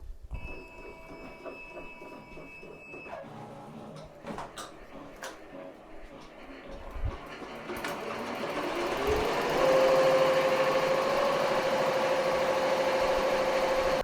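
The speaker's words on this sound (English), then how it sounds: "I'll go ahead and get that placement stitch started" An embroidery machine runs an appliqué placement stitch. It starts with scattered clicks and whirs, then settles into a loud, steady, rapid mechanical hum with a sustained tone, heard alone with no talking.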